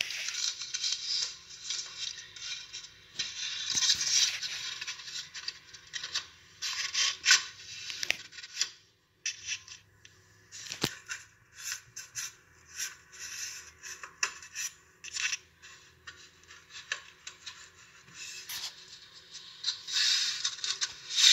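Cardboard being cut for a makeshift front bumper on a 1999 Mustang, with irregular rasping, scraping strokes coming in short bursts and pauses, fairly quiet and close.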